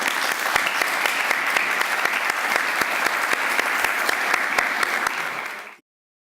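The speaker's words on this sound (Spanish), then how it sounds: "Vamos a darle un aplauso." Steady, dense applause from a congress audience in a hall, loud and sustained with sharp individual claps, ending abruptly after about six seconds.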